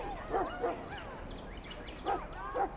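Mabari war hound from the video game Dragon Age Origins giving a few short yipping barks and whines in two close pairs, moderately loud against a quiet game background.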